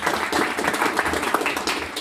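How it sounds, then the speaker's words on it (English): An audience at a meetup gives a round of applause, a brief dense burst of clapping that stays fairly loud and steady throughout. "So I'll give them a round of applause."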